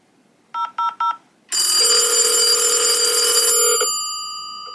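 Handset beeps three times in quick short bursts, then a loud steady electronic ring tone sounds continuously for about two seconds before cutting off and fading out, close and clear with no talking.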